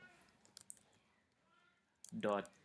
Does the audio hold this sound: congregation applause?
no